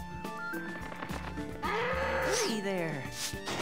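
A farm cow moos in the video game Rune Factory: Frontier, a drawn-out call rising and falling near the end, mixed with game sounds and someone talking.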